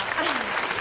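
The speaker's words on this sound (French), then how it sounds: "N'applaudissez pas" A short burst of audience applause at a stand-up joke show at the Olympia in Paris, dense and close, with a voice talking over it.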